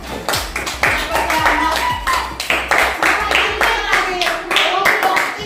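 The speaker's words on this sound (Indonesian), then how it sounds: "Tepuk tangan." Classroom hand clapping by a group of pupils, sharp irregular claps in quick clusters, loud and close, with children's voices mixed in.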